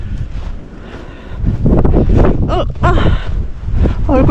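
Strong cold wind roars across the snowy summit of Deogyusan's Hyangjeokbong peak, buffeting the microphone loudly and continuously while people talk over it.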